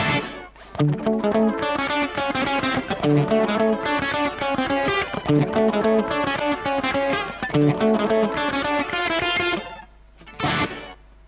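Electric guitar played through a Kemper Profiler with a heavily pitch-shifted, short reverb-style slap effect; choppy, distorted chord and note phrases ring with shimmering repeats, ending in a brief pause and one final stab.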